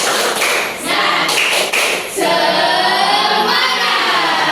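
A class claps out a rhythmic spirit clap, loud close hand claps in a patterned beat at first, then giving way to a sustained crowd of clapping and cheering.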